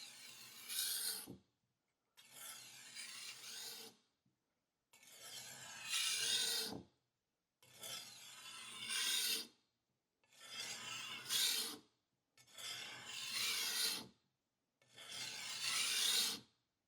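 A knife blade is drawn across a whetstone in seven rhythmic, quiet rasping strokes of about one to two seconds each, separated by brief pauses.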